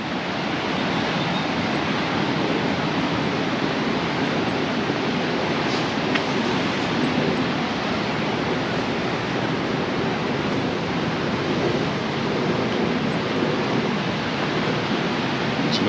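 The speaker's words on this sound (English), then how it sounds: "The sound of the sea, lovely" Continuous broadband roar of sea surf washing on a beach at Paguera, Mallorca, steady and fairly loud, with some wind blowing across the microphone.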